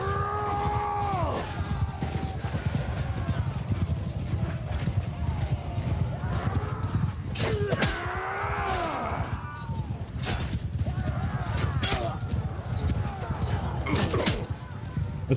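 A cavalry charge in Mount & Blade: many horses gallop with dense, rolling hoofbeats, sharp whinnies and clashing impacts, while voices shout over the din.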